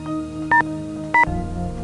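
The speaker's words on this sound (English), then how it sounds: "It's so hard to dial on these old phones" Old rotary phone dialed in the Nancy Drew point-and-click game, with two short bright electronic tones about half a second apart over a steady low hum.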